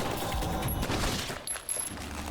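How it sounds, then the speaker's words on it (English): Bursts of gunfire shooting down enemies in the Wicked Seed video game, fairly quiet and continuous, fading briefly near the end before resuming. "I'll just keep shooting them."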